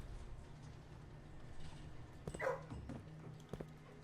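A cat meows once in the Blue Prince video game, a short, faint mew rising briefly over a steady low hum of game ambience.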